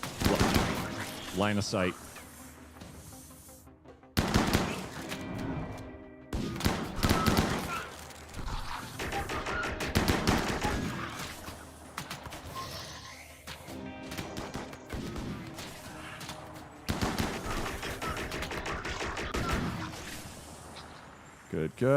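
Bursts of gunfire aimed at an attacker during a ship battle in the video game Fractal, with rapid volleys that come and go at several points and talk over the shooting.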